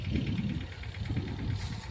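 A low engine chugs steadily at idle, a rough mid-range rumble with faint vibration running throughout.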